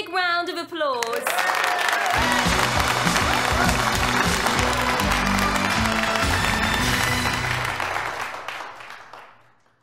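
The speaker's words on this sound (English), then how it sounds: "Give them a big round of applause." An audience bursts into loud, sustained applause, dense clapping building quickly and holding steady before tailing off near the end, over a bright musical sting at the start.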